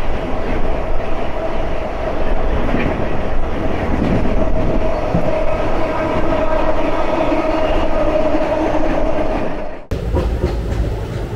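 The New Delhi–Howrah Rajdhani Express rushes past close by, a loud steady roar of wheels and coaches with rhythmic rail clatter, ending abruptly near the finish.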